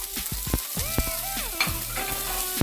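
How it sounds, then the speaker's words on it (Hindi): Sliced onions hitting hot oil in a pan for a chicken masala, with a steady close sizzle and frying crackle plus a few stirring scrapes of a utensil against the pan. "अनियन को पहले तेज़ आंच पे हमें जो है फ्राई करना है"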